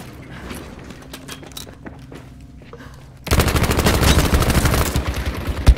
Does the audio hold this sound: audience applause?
no